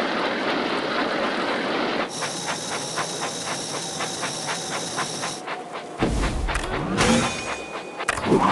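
A Thomas and Friends Minis toy train engine chugs with a fast rhythmic puffing under a high electronic tone, then a hiss and clattering toy noises follow.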